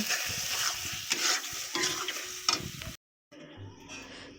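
Ground spice paste sautés in a very little oil, with close, uneven sizzling and stirring scrapes that stop abruptly for a moment before a fainter sizzle resumes.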